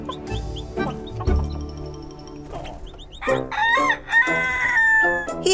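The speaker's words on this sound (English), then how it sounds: "Rusty the rooster woke up with the sun." Cartoon rooster crowing at sunrise in a children's animated story, with clucking and fowl calls followed by a loud drawn-out cock-a-doodle-doo near the end, close and clear over light background sound.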